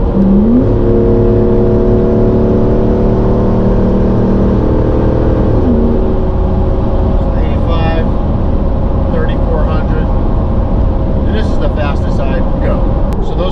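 Toyota Sequoia re-geared with 5.29 gears and 35-inch tires accelerating toward 85 mph, a loud steady engine and road drone with rising tonal whine, heard from inside the cabin.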